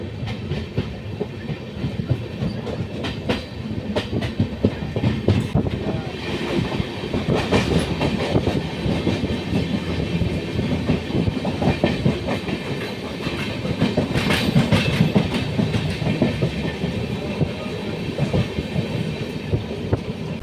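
Falaknuma Express running on tracks, heard from inside the carriage: a continuous loud rumble with rhythmic clickety-clack of wheels over rail joints and occasional faint hiss.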